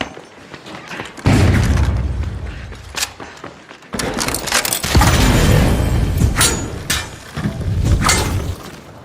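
Frag grenade blast in the video game The Finals, a loud booming burst with shattering debris, followed by more thuds and crashes over several seconds with little talk.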